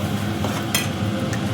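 Masala paste made from ground spices sizzles in hot oil in a home kitchen while being stirred, with a brief scrape and clink of a spoon against the pan partway through; steady, close, no talk.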